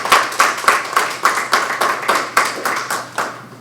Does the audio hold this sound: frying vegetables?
no